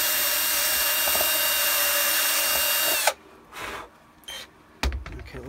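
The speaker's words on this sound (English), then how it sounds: "I could use a bigger drill bit, but I prefer the smaller one." Small drill bit buzzes loudly and steadily while widening a hole in a Shadow Trooper armor part, then stops abruptly, leaving quiet handling clicks and a brief rustle.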